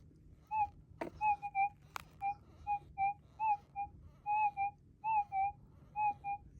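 A GPX 6000 metal detector sweeping over an uncleaned target gives a run of short, clear, whistle-like beeps in an uneven rhythm, each a few tenths of a second long, with occasional faint thumps between them.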